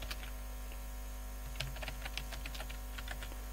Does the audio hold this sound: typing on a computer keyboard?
yes